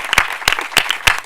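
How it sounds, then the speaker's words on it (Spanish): A few people clap for a technical team at an educational television session, sparse, uneven claps with distinct individual hits, close and moderately loud, with no talk over them. "por favor os pido un aplauso para ellos"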